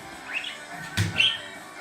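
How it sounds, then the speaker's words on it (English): Pet birds give a few short high chirps and calls, faint to moderate and close by, with a brief louder burst near the middle in a quiet indoor room. "Birds are jamming."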